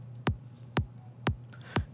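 Four evenly spaced, punchy kick drum hits from the Kashmir sample pack sound alone over a low, steady hum, each a sharp click with a falling boom.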